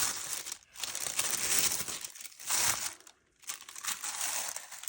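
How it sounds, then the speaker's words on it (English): Tissue paper crinkles and rustles loudly and close up as a package is unwrapped, continuous crisp crumpling broken by a couple of brief pauses. "I'm absolutely keeping this tissue paper for scrapbooking."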